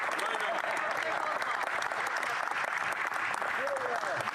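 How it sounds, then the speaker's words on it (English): Steady applause from members in the House of Commons chamber fills the whole stretch, dense and continuous at an even level, with a few voices calling out beneath the clapping. "you can applaud that"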